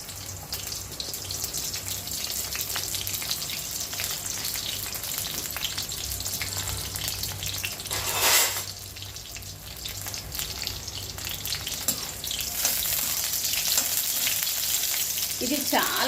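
Round brinjals fry in a pan with a steady, close sizzle and crackle throughout, a brief louder hiss bursting up midway as they are stirred.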